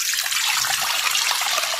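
Water, about three litres meant for boiling, pours in a steady close splashing stream for a couple of seconds with no voices.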